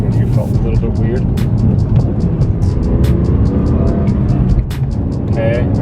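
Engine and road roar from a BMW E46 M3 converted from SMG to a manual Getrag 420G gearbox, pulling steadily in third gear on back roads, heard from inside the cabin with people talking over it.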